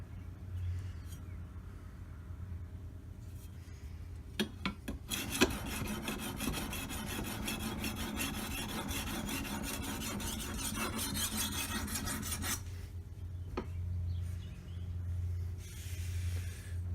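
An 8670M steel brush knife is aggressively sharpened with a steady, close, rasping file-like scrape that runs continuously for several seconds over a low background hum.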